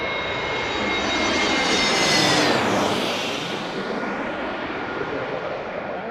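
Airliner landing in a crosswind at Washington DCA, a loud, close jet roar swelling to a peak as it passes overhead and then slowly fading away.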